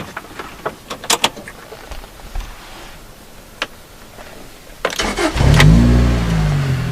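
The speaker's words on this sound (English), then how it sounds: "This car has an aftermarket Larani exhaust that really sounds nice." Lotus Elise fitted with an aftermarket Larani exhaust: a few clicks and small knocks, then the starter cranks and the engine catches, flaring into a loud rev before settling to a deep, steady idle close by.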